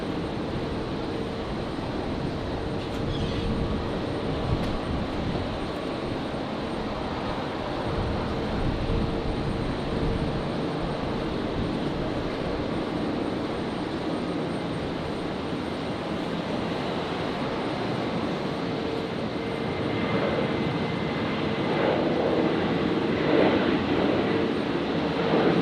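A Virgin Australia Boeing 737-700 begins its takeoff roll on runway 01 right at Brisbane Airport, bound for Sydney, its jet engines a sustained, even rumble at a distance that swells slightly near the end.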